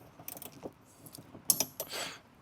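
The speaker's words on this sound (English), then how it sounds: "These ratcheting box end wrenches are handy for stuff like this." A ratcheting box-end wrench turned by hand during a rust repair job, giving faint, quick mechanical clicks in short irregular bursts, close to the microphone in a quiet space.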